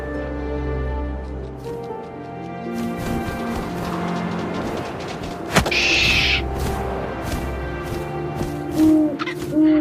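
An owl hoots inside the video game What Remains of Edith Finch, amid wind-like ambience and a few soft knocks, with no voice over it.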